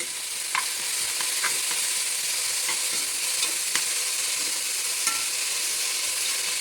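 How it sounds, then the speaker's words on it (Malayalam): Onions with a little salt being stirred in a cooking pot, a steady frying sizzle running throughout with occasional soft scrapes and clicks of the spoon, close and even. "അതിലേക്ക് കുറച്ച് ഉപ്പ് ഇട്ട് കൊടുത്തിരുന്ന് ഇളക്കിയിട്ട് അടച്ച് വെക്കാം"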